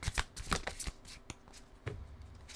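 Tarot cards riffled and shuffled in several quick, close bursts before an advice card is drawn, with quieter handling between, no talking.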